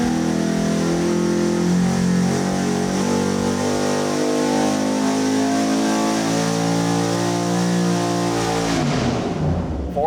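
A turbocharged 5.3L LS V8 on a dyno holds a loud, sustained rev that climbs steadily in pitch before cutting off abruptly near the end.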